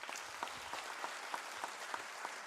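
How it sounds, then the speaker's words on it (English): A faint round of applause for the Goa High Court Bar Association president at a felicitation function, with scattered, thin clapping heard from a distance in a hall. "I think it deserves a round of applause."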